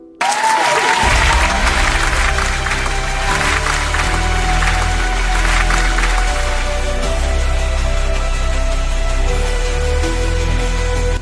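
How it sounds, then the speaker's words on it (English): At a school annual day celebration after a play, a large hall audience breaks into sustained loud applause, thick clapping that fills the room for several seconds over a low steady hum. "Can we have a huge round of applause to all of you?"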